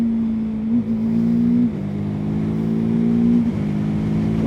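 A TVS Apache RTR 310 naked sport motorcycle engine revs steadily up close, its pitch dipping briefly at each quick bidirectional quickshifter gear change before climbing again, with no talking.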